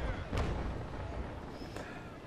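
Bow chaser cannons on a sailing warship fire in the Naval Action game, two deep booming shots about a second apart over a low rumble.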